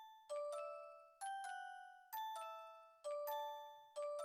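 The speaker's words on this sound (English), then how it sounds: "I feel like the bell definitely sounds a little bit crispier after boosting some highs and adding that flanger" Bell melody in FL Studio with highs boosted and a flanger effect, crisp metallic notes struck in a repeating pattern of single and paired hits, each ringing and decaying, alone and clear.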